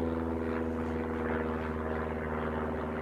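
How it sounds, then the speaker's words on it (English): Aeroplane passing overhead near the Beatles' Strawberry Fields filming location, a faint, steady distant engine rumble and whir filling the background without pause. "God, there's always an aeroplane flying over."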